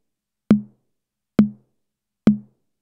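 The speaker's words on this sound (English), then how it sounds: "High tom." Three evenly spaced high tom hits from a Behringer RD-6 drum machine, each a short, punchy pitched thump that fades fast, played alone and clean.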